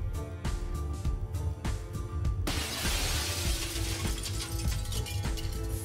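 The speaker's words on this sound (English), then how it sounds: "The window shatters somewhere." A window shatters in the mystery video game The Sexy Brutale. A sudden loud crash of breaking glass bursts over the game's ongoing musical backdrop and keeps ringing with bright, scattered debris.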